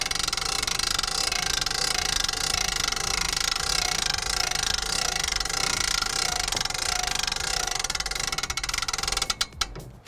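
A winch winds a camper trailer's slide-out section over, giving a continuous loud mechanical grinding and rattling that stays steady for about nine seconds before breaking into a few sharp clicks at the end.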